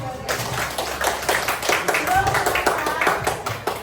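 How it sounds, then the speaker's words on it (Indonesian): Classroom applause for a student group that presented on river ecosystems, a few seconds of brisk, uneven clapping from a modest number of hands, with speech mixed in over it. "Beri tepuk tangan untuk kelompok sungai."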